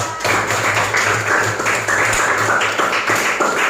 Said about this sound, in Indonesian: Tepuk tangan untuk kita semua.